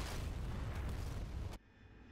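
A bomb explodes in the DCS flight simulator as a heavy, sustained rumbling boom that cuts off abruptly, leaving a faint hum behind.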